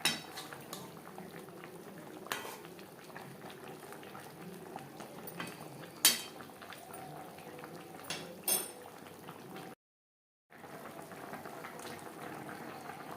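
Fish simmering in gravy with potato and cauliflower in a pot over a gas flame, a faint steady bubbling with occasional clinks of a spoon or utensil against the pan, close and quiet, no talking.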